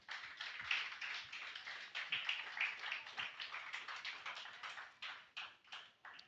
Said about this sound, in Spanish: Regálele un fuerte aplauso al Señor.